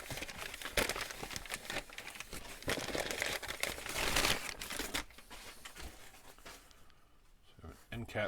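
Brown paper crumpled and crinkled while unwrapping an amplifier end cap, dense close rustling in bursts for several seconds that fades toward the end, with a person speaking over it.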